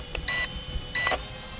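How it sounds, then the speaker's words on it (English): Two short electronic beeps from a Helicute H805 drone signalling it is ready for a flip, each a brief cluster of bright tones, sound about a second apart over quiet background noise. "you press the button and it's going to beep saying, hey, I'm ready for a flip"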